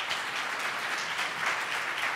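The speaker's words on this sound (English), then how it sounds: "so it definitely does deserve some applause" An audience at a school leadership talk applauds, producing a dense, even roar of clapping from a sizable crowd that stays steady throughout.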